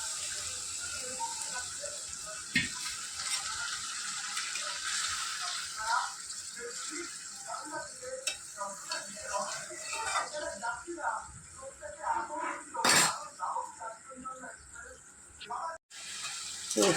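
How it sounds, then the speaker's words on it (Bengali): A small amount of water is poured into a pan of hilsa fish curry spiced with chili powder, turmeric and salt. The soft, trickling splash runs beneath a voice speaking throughout. "এবার দিয়ে দেবো আমি সামান্য পরিমাণে জল।"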